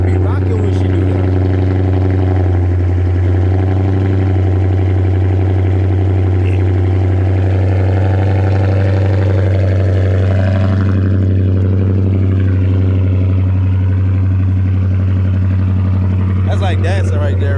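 A 300 sedan idles loud and steady after a cold start, its engine note a deep constant rumble that holds throughout, with people talking over it for much of the time.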